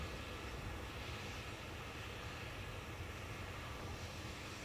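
KLM Boeing 737-800 taking off from runway 28 right at Dublin Airport, a faint, distant, steady broadband engine roar with no distinct peaks, heard alone.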